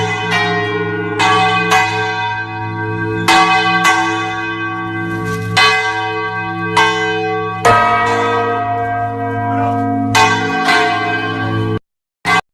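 A large bell tolls slowly and resonantly, with about six strong strikes each ringing out with a long, shimmering decay before the next one lands.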